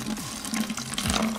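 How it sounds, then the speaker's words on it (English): Tap water runs steadily into a container that is being filled with water tinted by a drop of food coloring, with a rising gurgle as the level changes. The sound is continuous, close and moderately loud, with no talking. "we're gonna fill it up with water"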